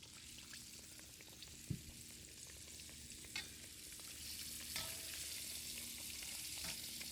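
Pork chops return to hot oil for a second fry, giving a quiet, continuous sizzle with faint crackles and a few soft knocks of a utensil, without any voices.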